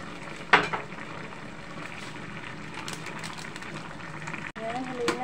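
A spoon stirs a pot of gabi stew with added salt and pork fat and tinapa, giving soft scraping and gentle sizzling under quiet background talk, with one sharp clink near the start.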